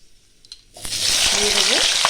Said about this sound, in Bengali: একটু লঙ্কাটা লাল লাল করে ভাজা হবে